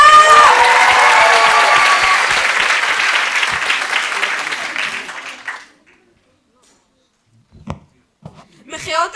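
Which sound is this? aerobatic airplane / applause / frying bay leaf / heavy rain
applause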